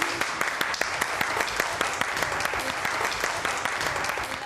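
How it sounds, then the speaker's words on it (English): A group of children claps for their classmates in a busy, dense burst of hand clapping with a few distinct nearer claps standing out, sustained evenly for several seconds. "Give them a clap."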